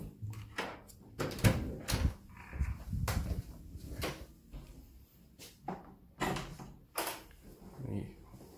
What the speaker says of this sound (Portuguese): Vamos abrir aqui a porta.